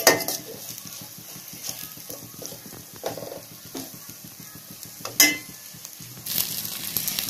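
Sliced okra, ladies finger, sautés and frays in a pan, a steady low sizzle broken by scraping and clinking stirs of a spatula against the metal, with a sharper clatter near the middle and no voices.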